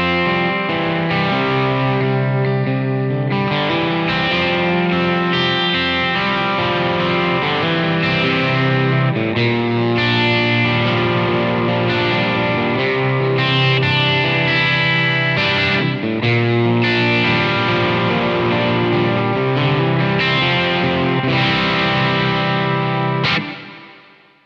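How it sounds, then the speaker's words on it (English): Synth tones from a Simplifier MK2 effects unit with its reverb dialed to three o'clock, a continuous dense wash of sustained, distorted, chorused notes that swells into a big ambient tail and cuts off near the end. "So let's see what the reverb does when we go to 3 o'clock."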